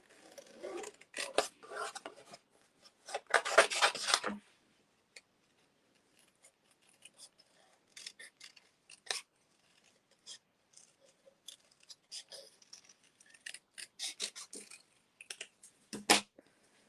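Scissors snip around a stamped image on a scrap of crumb cake cardstock, in short crisp bursts with pauses between, close by and fairly loud.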